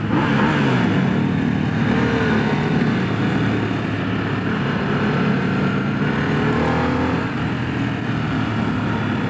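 A 2025 Harley-Davidson Sportster S engine gives a rev bump while riding, a loud continuous motor drone with rising pitch sweeps over steady wind and road noise, no voices heard.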